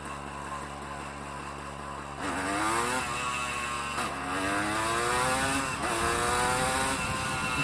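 A Honda CRM 250 two-stroke motorcycle revs loudly and close, its buzzy engine note climbing through repeated rising pitch sweeps as the rider accelerates and shifts on a small road.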